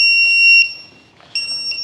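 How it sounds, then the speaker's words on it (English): A plug-in voltage alarm on a LiPo battery pack for an FMS P-51D model plane emits loud, shrill electronic beeps, a sustained tone that breaks off, then resumes in short repeated pulses. "this is a voltage alarm"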